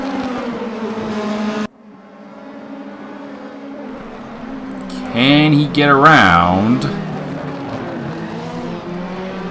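BMW and Audi race cars battle on track, a steady close engine drone giving way to rising and falling whines as cars pass, under a commentator talking.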